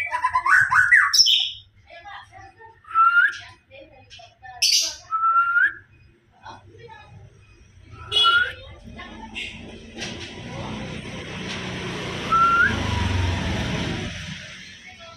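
A white-rumped shama (murai batu) sings short, bright whistled phrases separated by pauses, loud and close. Someone talks and background noise rises in the later part.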